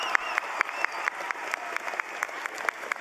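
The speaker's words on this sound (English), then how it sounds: "our students are going to give you all a round of applause" Students applaud parents at a high school graduation ceremony, a sustained crowd clapping with sharper rhythmic claps standing out at regular intervals, moderately distant in a large hall.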